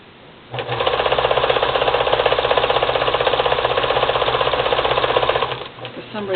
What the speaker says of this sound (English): For some reason or other, it's a little hard sewing through the towel.